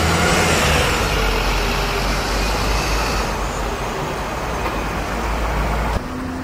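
A park and ride bus in Chester in November 2009 passing close by, a loud steady engine and road roar that eases slightly as it goes, with no talk.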